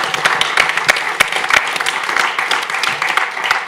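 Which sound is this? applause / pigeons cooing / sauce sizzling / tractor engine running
applause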